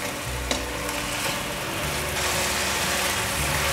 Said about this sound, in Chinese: 快速翻炒。